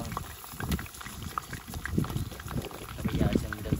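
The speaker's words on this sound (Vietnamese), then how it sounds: "Giờ mình chiên cho nó chín." Food sizzles and bubbles in a small frying pan over a rural cooking fire, a steady crackling fry with louder pops, heard close while a person talks over it.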